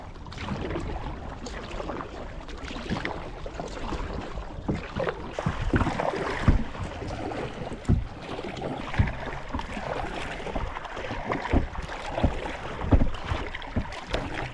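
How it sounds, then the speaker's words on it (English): Gusty wind buffeting the microphone over a river in The Gambia during a canoe paddling trip, a continuous rough rumble with irregular louder bursts, no voices. "It's a bit windy."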